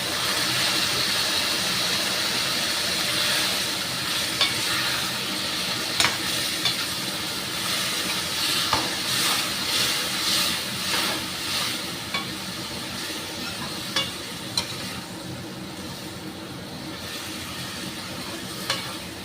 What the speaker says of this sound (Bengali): একটু জল দিয়ে কষিয়ে নিচ্ছি,